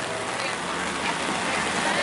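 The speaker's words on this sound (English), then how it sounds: "As you see, it's raining, people. It's raining." Steady rain falls outdoors at a street food festival, a dense, even hiss with no talking.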